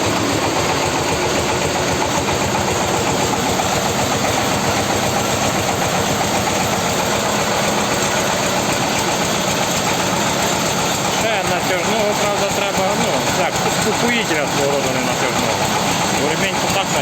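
A PTO-driven mulcher spins on a Forte 181GT 4x4 tractor with the engine running, a loud, steady mechanical drone and rattle that holds for the whole stretch.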